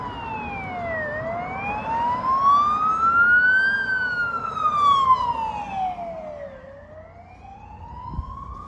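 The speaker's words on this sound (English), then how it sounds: "this is like the 5th, 6th, 7th police car" A New Zealand police car siren wails in long rising and falling sweeps as the car passes nearby, loud over low road traffic rumble.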